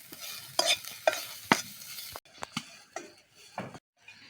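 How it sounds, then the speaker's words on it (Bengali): Onion and garlic frying with salt in a pan in a village kitchen, stirred in a series of close, crisp scrapes and sizzling strokes that come in separate bursts. "পেঁয়াজ রসুন ভাজার সময় আমি লবণ দিয়ে দিচ্ছি"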